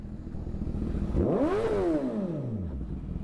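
A motorcycle engine revs up sharply to a high whine and then falls back, loud and close.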